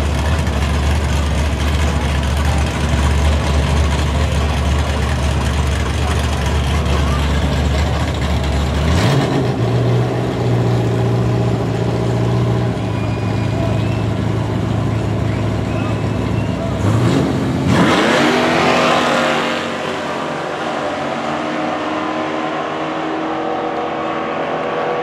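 Drag racing cars at Yello Belly Drag Strip, heard as a loud steady engine drone near the start, then a sharp change in pitch and a rising howl around the middle, fading to quieter rumble by the end; talk mixes in.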